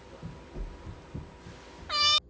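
A house cat gives a single short, bright meow near the end, after a stretch of soft low thumping and faint background hum.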